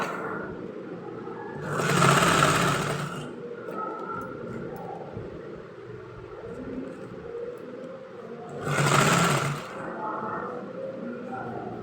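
An electric sewing machine stitching a kurti runs in two short, loud whirring bursts of about a second each, separated by a long quieter stretch of faint handling noise.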